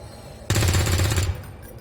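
A weapon fires a sustained burst of rapid automatic gunfire in XCOM 2, loud and close, lasting under a second before cutting off into quiet game ambience.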